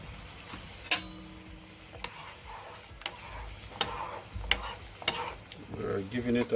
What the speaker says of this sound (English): We're giving it a stir because we don't want the noodle to, which is the pasta, to stick